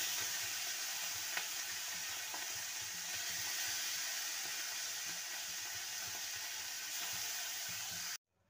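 Small mourola fish frying in a pan of oil, a continuous close sizzle and crackle holding steady for several seconds before cutting off abruptly.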